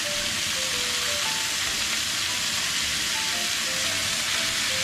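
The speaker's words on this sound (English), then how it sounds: "Heat olive oil over there. Inside, yeah. Place the chopped onion in here." Steady loud sizzling of chopped onion frying in hot olive oil in a pan, a dense continuous hiss without pause and a faint background tone.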